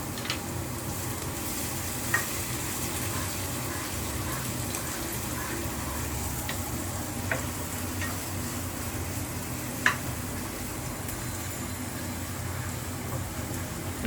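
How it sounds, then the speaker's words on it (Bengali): Onions fry lightly in a pan with a steady, moderate sizzle, a few faint clicks from stirring, and no voices heard. "পেঁয়াজটা এখানে ভাজবো হালকা করে"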